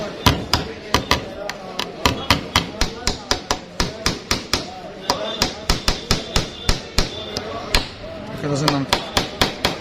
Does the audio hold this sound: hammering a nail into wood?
yes